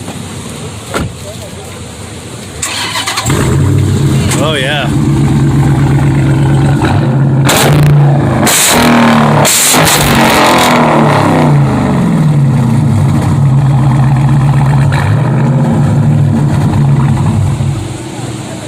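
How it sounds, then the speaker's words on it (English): A muscle car engine cranks and fires up at a car show, then settles into a loud, rumbling idle with several sharp throttle blips through the exhaust. Voices can be heard beneath it. "Okay, to fire it up so we can hear that exhaust."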